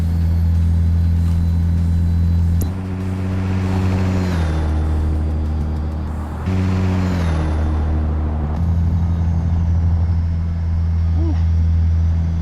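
Heavy truck engine rumbling steadily in American Truck Simulator, a deep continuous drone with shifting pitch as the rig slows down a mountainside, loud and close throughout with some background talk.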